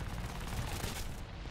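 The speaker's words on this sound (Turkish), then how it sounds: "Aa ateş ediyor lan. Herife bak. Bize sıkıyor." Rapid, rumbling gunfire from an enemy aircraft in War Thunder, a dense, loud burst of shots blending into a continuous roar over the brief moment.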